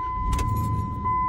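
A failing truck engine rattles and sputters as it quits, with a short metallic jangle near the start and a steady high whine underneath, close and fairly loud.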